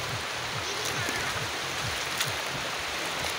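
A strong current in a clear, rocky mountain stream where children bathe rushes steadily, a continuous broadband wash of water with low gurgles, heard without speech.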